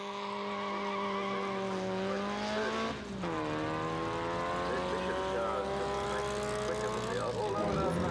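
Vintage racing cars, including a 1927–1932 Lombard 1093cc twin-cam supercharged racer, being driven, engines revving loudly and steadily with rising and falling pitch as they pass close by.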